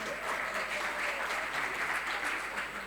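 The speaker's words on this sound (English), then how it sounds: "Can we give them a round of applause?" Round of applause from an audience at a film panel conference in Durban, South Africa, a dense, steady wash of many hands clapping at once, sustained and fairly loud with no talk over it.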